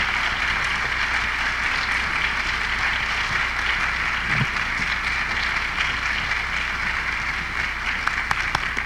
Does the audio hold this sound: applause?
yes